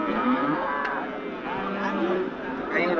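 Cattle moo at a cattle market near Salem, a close, drawn-out lowing call over a busy background of market chatter and livestock noise.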